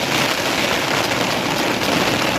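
Heavy monsoon rain pours down steadily in the Gir forest, a loud, dense, unbroken hiss with no pauses.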